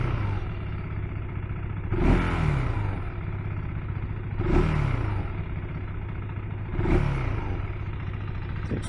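A KTM 390 Adventure R motorcycle engine idles steadily nearby, and its revs rise briefly three times at regular intervals before settling back each time.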